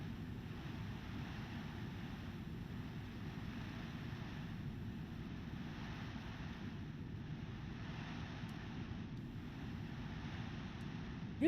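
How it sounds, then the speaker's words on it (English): A TorqueSim SR22 G1000 single piston engine in X-Plane 12 on final approach, a steady low droning rumble with broadband rushing air noise, constant and unbroken throughout. "I will remove the headset so that you guys can hear the engine sounds"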